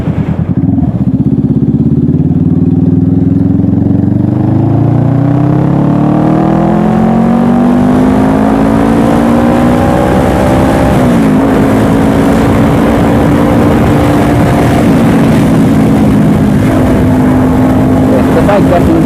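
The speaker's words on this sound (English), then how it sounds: "The bike definitely sounds a lot better." A Honda CBR500R motorcycle engine runs while being ridden, its steady drone rising through gears with harmonic sweeps, loud and continuous under wind noise with a voice talking over it.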